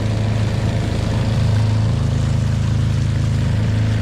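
The motor of a fishing boat travelling on a Kerala backwater river near Kanjippadam drones steadily and loudly close by, a constant low engine hum with water noise and no talk.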